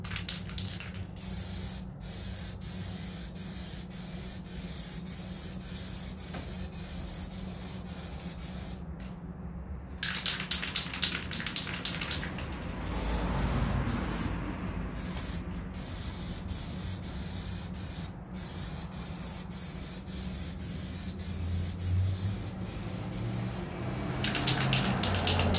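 A spray gun lays a light coat onto the hood of a 1969 Corvette C3 during bodywork, a steady continuous hiss running close and loud almost the whole time with brief gaps between passes.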